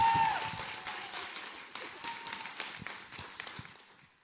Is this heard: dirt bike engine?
no